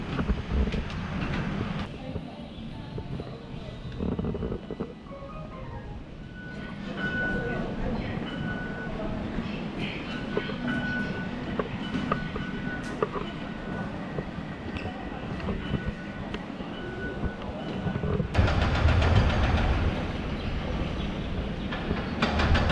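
A metro train in Taipei rumbles along with a steady roar and occasional rail clatter, voices talking intermittently over the ride.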